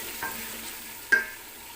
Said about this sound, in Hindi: अब हम इसको हिलाएंगे।